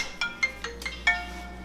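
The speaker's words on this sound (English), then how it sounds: "Is that my work phone?" A work phone rings with a short, repeating electronic tone, five evenly spaced chirps close by over a faint steady background hum.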